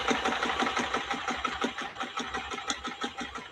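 A vintage Kenmore sewing machine runs a decorative stitch, its needle chattering in a quick, even mechanical rhythm at close range with no talk.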